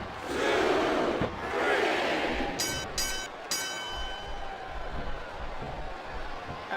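A video game crowd in WWE 2007 roars loudly in a dense, sustained wash, dipping briefly around a second in, then thinning after a few sharp bursts midway and settling into a steady lower murmur.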